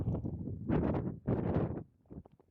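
Strong wind on a shale hillside in the Mount Hare foothills buffets the microphone in heavy low rumbling gusts, loud and close, easing briefly before surging again.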